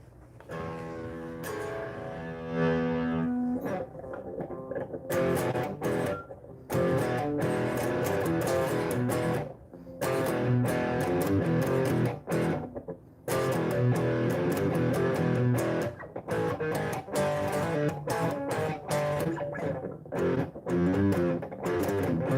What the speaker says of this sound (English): Let me put on some distortion.